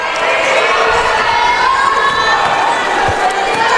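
Loud, steady home crowd cheering and shouting fills a women's basketball gym, a dense roar that holds throughout without a break.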